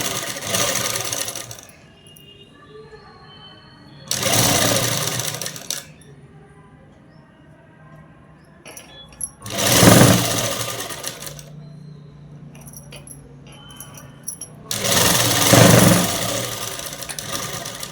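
A sewing machine stitches a design onto a jacket in four loud, close bursts of rapid mechanical whirring, separated by quiet pauses with faint handling clicks.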